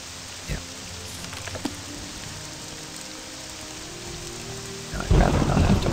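Steady rainfall in a video game, a constant hiss of drops with a few sharper taps, swelling into a louder rumbling burst near the end; no voices.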